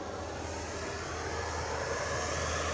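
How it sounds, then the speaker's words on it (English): Dash 8 turboprop aircraft lining up for departure, a steady distant propeller drone with a low engine hum, continuous and fairly faint, no voices. "So we're going to go to the Dash 8 departure as it's lining up."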